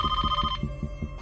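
A telephone rings in a quiet house at night, a steady pulsing ring repeating about every fifth of a second, close and clear with no talk over it.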